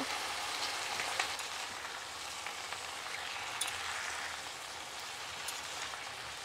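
Potatoes, Malabar spinach and mixed vegetables frying in a pan for a vegetarian dish: a soft, even sizzle with a few faint crackles, heard close and alone at low volume.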